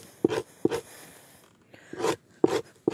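A tool scrapes the grain off an animal hide being prepared for tanning, in five hard rasping strokes, each opening with a sharp scratch and trailing into a brief rough drag, close and fairly loud.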